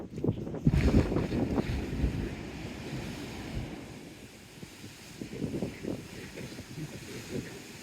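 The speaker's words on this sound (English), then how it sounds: "It's so windy" Strong wind blows on a seafront at Teignmouth, a loud blustery rumble battering the microphone in gusts, heaviest at the start and easing off before rising again, with no one talking.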